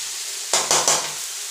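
Mushroom curry stirred in a pan: three quick scraping, sizzling strokes close by, each a short burst of frying hiss over a quiet kitchen background.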